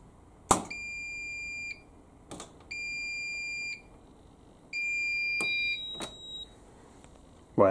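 A Siemens WM14T492GB washing machine beeps in a repeating pattern of sustained electronic tones, each about a second long with short gaps, preceded by sharp clicks, close and clear in a quiet room.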